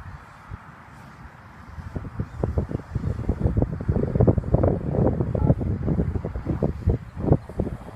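Outdoor wind gusts buffet the microphone during a drone flight, a low rumbling roar that starts softer and swells into loud, uneven bursts lasting the whole stretch.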